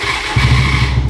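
A custom-modified Royal Enfield Bullet motorcycle with a barrel exhaust cranks and fires up. It settles at once into a loud, close, low thumping idle.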